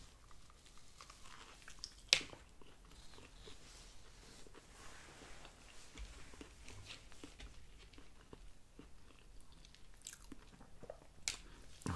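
Close, quiet chewing and biting of a Hardee's steak biscuit, with soft moist mastication sounds and a couple of sharper crunchy bites, no talking.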